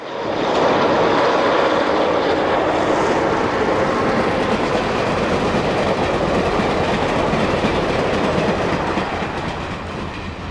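A loud Chesapeake and Ohio passenger train rumbles steadily past close by, crossing a junction at Rougemere Yard near Detroit, wheels clattering over the rails in a continuous heavy roar.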